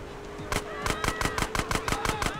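Gunfire in GTA: San Andreas cracks out as a steady run of about a dozen loud, evenly spaced shots after a short quiet start, with faint game sounds behind.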